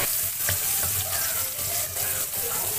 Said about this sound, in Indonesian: Selanjutnya kita menggoreng bawang merah yang diiris tadi.